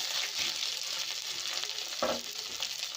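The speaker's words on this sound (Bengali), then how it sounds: "আদা রসুনটা ভাজা ভাজা হয়ে গেছে।" Ginger-garlic paste fries in hot oil in a pan for a fish-head moong dal, giving a steady, close sizzle with a brief stirring scrape about two-thirds through.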